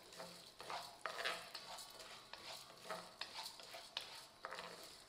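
A cup of toor dal dry-roasting in a pan, a spatula scraping and stirring the lentils in repeated strokes over a faint sizzle, close and fairly quiet.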